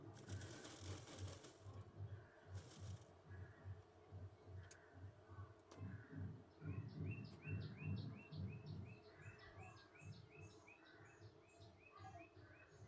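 Sewing machine stitching old saree fabric for a maxi dress, a steady rapid mechanical chatter running throughout at close range, with faint bird chirps in the background and brief hissy bursts near the start.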